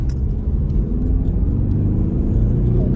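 A car pulls away hard from about 20 km/h, its engine rumbling loudly and steadily close by, with no talk over it.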